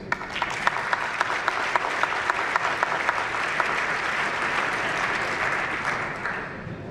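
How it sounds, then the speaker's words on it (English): A round of applause for four debaters at a trade policy debate: a steady, dense wash of audience clapping sustained for about seven seconds, with no voices over it. "Let's begin in the spirit in which we will continue with a round of applause for our four debaters."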